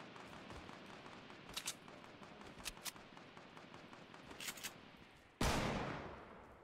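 Fortnite gameplay with faint, scattered shots giving way to one loud, sudden rocket launcher blast near the end that trails off slowly, with no talking over it.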